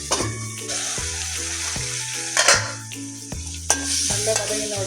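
Onion and tomato sizzle and stir in a pan for a homemade Tamil egg curry, a steady frying hiss with scraping stirs, layered under louder background music.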